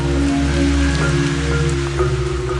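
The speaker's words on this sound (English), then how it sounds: "It's got changed and now it's raining." Heavy tropical storm rain pours steadily on an island, a dense, loud, continuous patter of drops hitting surfaces with no talking.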